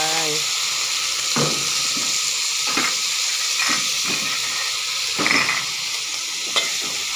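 Broccoli stir-fried in a pan gives a steady frying hiss, broken by repeated clanks and scrapes of a utensil stirring against the pan, with brief voiced sounds near the start.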